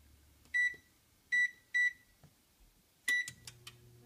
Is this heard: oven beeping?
yes